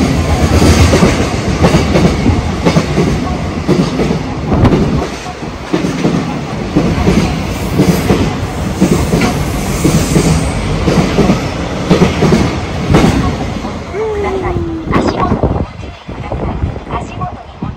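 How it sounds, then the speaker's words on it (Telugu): A goods train rolls past on the rails at a station near Miyajima, Hiroshima: a loud, continuous rumble with clickety-clack of wagon wheels, a brief wheel squeal near the end, and some wind buffeting on the microphone. "ఇదేంటి గూడ్స్ బండి"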